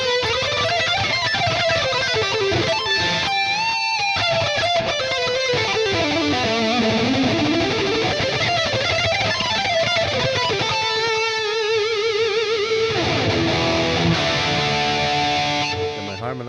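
A sustained electric guitar lead through a Line 6 Helix preset plays a wandering melody, its notes trailing into echoing delay and a wash of reverb, loud and continuous.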